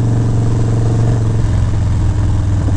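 Old Harley-Davidson motorcycle engine running while riding, a loud, steady low rumble with a constant throb throughout and no voices.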